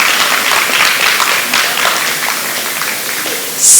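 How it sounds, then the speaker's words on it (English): A crowd at a spring livestock showcase of showmanship and halter classes claps in sustained applause, a dense, even patter of many hands that carries on steadily and fades slightly near the end. "Let's give a round of applause for our juniors here."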